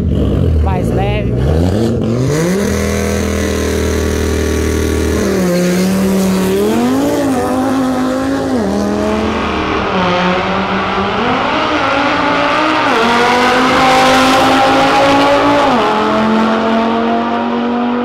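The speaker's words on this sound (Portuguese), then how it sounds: "Corrida de gente grande, rapaziada. Porsche turbo, Audi TTRS bem roubadinha com as OS." A Porsche Turbo and an Audi TT RS race side by side, engines roaring loud and close as they accelerate hard through several gear changes, the pitch climbing and dropping with each shift.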